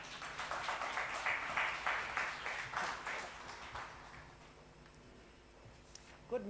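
An audience at a business chamber summit opening session claps in a moderate burst that fades away over a few seconds, leaving a quiet hall with a faint knock near the end.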